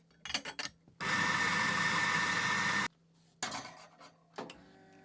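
A Mahlkönig espresso grinder runs a steady burst of grinding coffee at a 230-micron setting for about two seconds, loud and close, framed by short clicks and handling knocks before and after.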